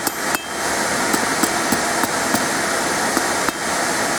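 Blacksmith hammering a tapered metal bracelet end on a flat anvil: sharp, ringing hammer strikes land at a steady rhythm, about ten blows over a few seconds, close and loud over a constant shop hiss.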